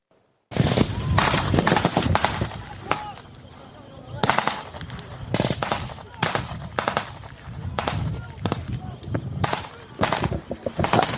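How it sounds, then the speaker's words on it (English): Loud, dense gunfire at a WW2 reenactment, with irregular bursts of machine-gun fire and single shots cracking one after another, some near and some farther off, over a constant battlefield din. "with all this background firing going on, it can only mean one thing. We're watching a reenactment"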